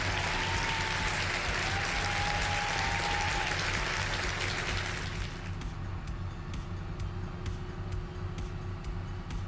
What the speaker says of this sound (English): big old round of applause for Squiggy renewing his channel membership